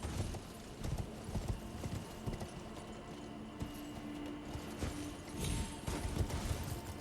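Rhythmic hoofbeats clatter steadily in Elden Ring, a horse galloping at a close, even pace, with a brief whinny-like sound partway through.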